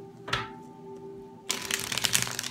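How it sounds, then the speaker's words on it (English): Tarot cards riffle-shuffled at close range, with a single soft snap near the start and then a dense, crackling burst of shuffling through the second half, over a faint steady hum. "One last shuffle for the sign of Pisces."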